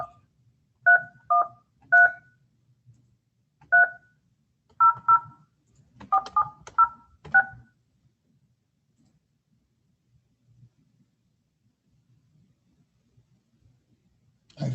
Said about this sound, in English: if this conference phone is working true to form, it won't go through until the second call